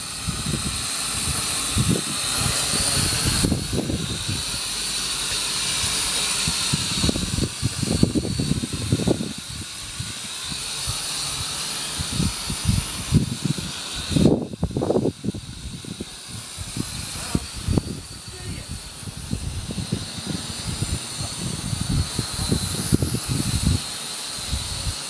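Wind buffets a microphone outdoors during a test flight of a JJRC H8C quadcopter, making loud, irregular gusty rumbles and bursts over a steady hiss that rise and fall throughout.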